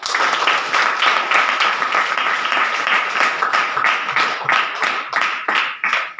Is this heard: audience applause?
yes